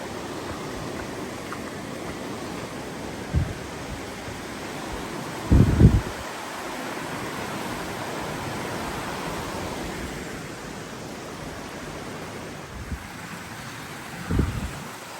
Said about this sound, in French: On commence déjà avec un petit ruisseau.